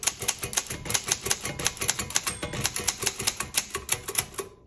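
A 1956 Underwood Universal manual typewriter is typed on, with sharp, close key strikes falling in quick, uneven bursts, a crisp metallic clack to each, and a bell-like ding near the end.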